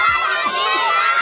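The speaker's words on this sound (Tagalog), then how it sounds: "Sigaw! Malakas sigaw!" Children shout loudly together at a birthday party, a continuous high, overlapping chorus of screaming voices lasting the whole moment, close and bright.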